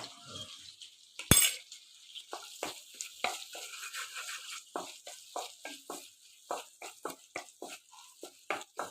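Chilli powder and coriander powder frying in a pan while being stirred, close and fairly quiet, with a steady soft sizzle under repeated scraping strokes and one sharp clank near the start.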